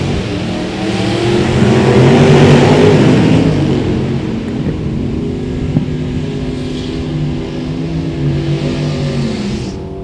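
Drag race cars, one of them a Mustang, roar down the strip in a loud engine wail that peaks early, then fades to a steady distant rumble.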